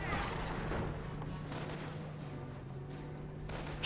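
Gunfire rumbles through a Company of Heroes battle as US snipers fire, with a dense, continuous wash of distant shots and low booms and a steady hum underneath, and no voices.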